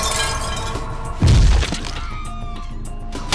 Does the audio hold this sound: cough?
no